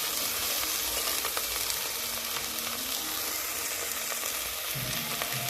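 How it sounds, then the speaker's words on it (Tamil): Okra (ladies finger) sautéing in a pan for a kuzhambu gives a steady, close sizzling hiss with light stirring scrapes throughout, no voices. "வெண்டைக்காய் நல்லா வதங்கிடுச்சு"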